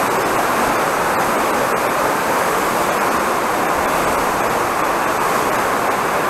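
Water pours down the Honey Waterfalls near Kislovodsk, a loud, steady rushing roar that fills the whole scene without pause.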